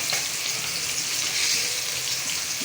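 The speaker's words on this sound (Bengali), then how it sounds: "আমার তরকারিগুলো কষানো শেষ, আমি হচ্ছে মাছের মাথাগুলো কষা করে" Fish heads frying in a pan for a fish-head and cauliflower curry, giving a steady, close hiss and crackle of hot oil that holds level throughout, with no talking.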